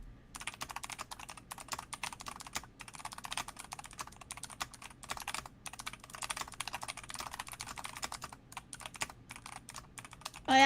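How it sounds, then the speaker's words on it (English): Rapid typing on a loud mechanical computer keyboard, close up, with dense bursts of sharp clacky keystrokes and brief pauses between runs, no voices. "My mechanical keyboard is too loud that it deafens my ears sometimes."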